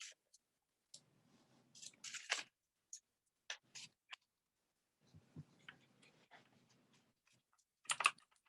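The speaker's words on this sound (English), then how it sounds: "I'm going to shuffle your cards to see what gifts you have" Tarot cards are shuffled by hand in a quiet room. Scattered bursts of papery flicking and clacking come in uneven clusters, with a soft voice murmuring faintly in the gaps.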